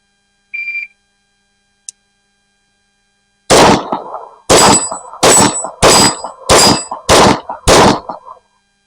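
A pistol fired double action at steel targets on an outdoor range: seven loud, sharp shots in quick succession, each followed by a short metallic ring. A brief beep sounds earlier in the quiet.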